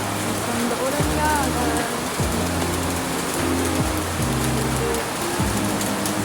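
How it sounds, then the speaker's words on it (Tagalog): Heavy rain pours down steadily and loudly outdoors, a dense continuous wash of noise throughout, with music and faint voices underneath. "Ngayon ay paglabas ko nga ay sobrang lakas ng ulan."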